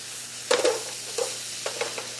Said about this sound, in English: And you want to also saute them until they're just above translucent.